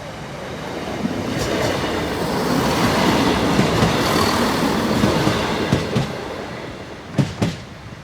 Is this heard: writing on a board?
no